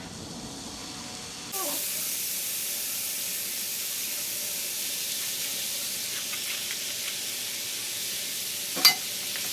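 Noodles dropped into a hot pan with Ching's Hakka masala burst into a steady, loud hiss and sizzle that continues evenly, with a brief clatter near the end.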